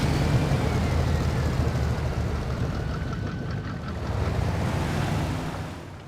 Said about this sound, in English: just listen to the startup and the idle on this Chevy